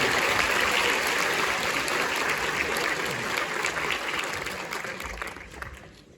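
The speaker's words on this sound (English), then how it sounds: "Can we have a round of applause?" Audience at the Liverpool comic con bursts into loud, dense applause that holds strong for several seconds, then gradually thins and fades out.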